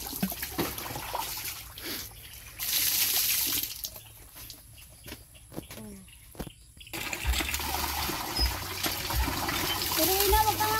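Water poured and splashing over feet during washing, irregular gushes and trickles in bursts, with people talking close by throughout.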